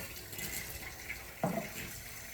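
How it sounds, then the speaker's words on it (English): A faint, steady wash of water pours into a pot of stock, continuous and quiet with a brief clunk partway through, with no talk. "And now we'll start adding water to it."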